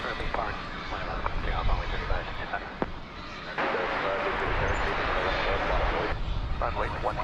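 United Airlines Airbus A319 at DFW airport, its engines roaring steadily throughout, swelling louder in the middle stretch, with faint radio chatter and voices underneath.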